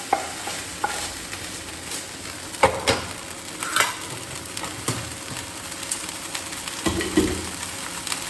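A cooked masoor dal and pointed gourd mixture goes into a hot pan and sizzles, with a continuous frying hiss broken by repeated stirring scrapes and clunks of a spoon against the pan, close and fairly loud.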